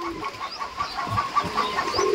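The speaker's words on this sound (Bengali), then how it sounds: "11টা হাঁস, চীনা হাঁস।" Chinese ducks on a duck farm give soft, brief clucking calls, fairly faint and close, several short notes in quick succession.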